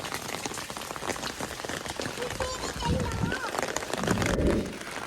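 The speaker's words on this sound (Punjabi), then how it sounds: "ਮੀਂਹ ਪਈ ਜਾਂਦਾ ਹਟਦਾ ਹੀ ਨਹੀਂ" Steady rain falls on a farm in Punjab, a dense continuous patter that swells somewhat louder toward the end, with someone talking over it throughout.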